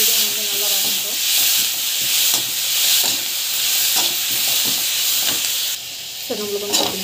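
Cumin and salt sautéing in a hot pan, a steady broadband sizzle broken by repeated scraping stirs of a spoon against the pan, close and fairly loud, with a brief clatter near the end.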